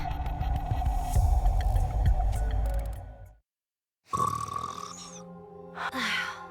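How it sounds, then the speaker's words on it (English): A character snores in the NIKKE video game, long rumbling snore breaths that drone steadily, break off into a brief silence, then resume with a throaty, wavering intake, loud and close with no talking. "Gretel and I think Ave's snoring is goddess level. We can hear it all the way from over here."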